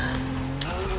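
A GTR drifting in a racing video game, with an engine drone and a sustained tire squeal over a short, loud, continuous stretch.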